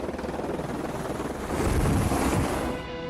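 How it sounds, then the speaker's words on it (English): Helicopter flying nearby at an outdoor film location, a loud rumbling rotor drone that grows louder mid-clip as it passes close, then eases off, with no voices over it. "There's a chopper behind me, isn't there?"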